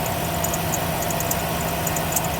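A car engine idles from dead cold, a steady close hum with faint hiss and no voices.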